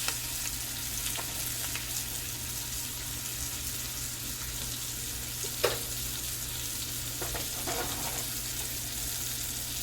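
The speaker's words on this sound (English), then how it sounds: "get all that butter. And just baste your fish." A butter-basted fish fries in a tilted pan, giving a steady, close sizzle and crackle with occasional spoon scrapes and clinks as the hot butter is spooned over the fillet.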